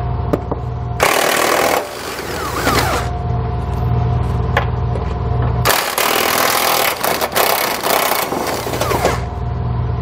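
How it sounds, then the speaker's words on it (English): Power tool driving a 21 mm socket to remove the inside frame bolts on a 2020 Jeep Grand Cherokee, heard as two long, loud, rattling bursts separated by steady background hum. "We're going to use a 21 millimeter socket to remove those."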